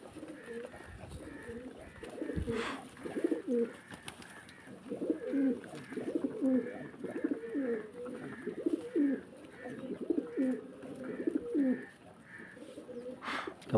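Pigeons coo in repeated rolling phrases through much of the scene, close and fairly steady, with a faint voice and small bumps mixed in.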